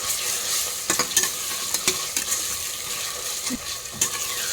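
Onions frying with ginger and garlic in a pan are stirred steadily, a constant loud sizzle broken by sharp scraping strokes of the spoon at irregular intervals, with no voices.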